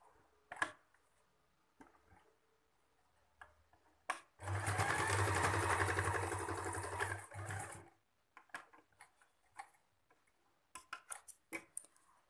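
A sewing machine stitches a cloth baby nappy in one loud, steady whirring run of about three seconds, bracketed by close clicks and fabric handling, with no talk.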